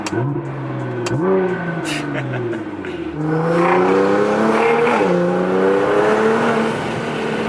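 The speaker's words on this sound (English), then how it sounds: "This car just does not get old. The sounds it makes, these turbo noises." A Nissan GTR engine revs repeatedly up and down, with rising and falling pitch and turbo whooshes and flutter, loud and close, with brief short pops between revs.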